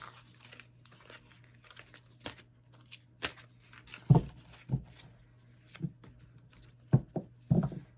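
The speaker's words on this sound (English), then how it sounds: "Make sure they're shuffled up real good." Soft intermittent rustling and crinkling of tarot cards being handled and shuffled, in scattered brief bursts over a faint low hum.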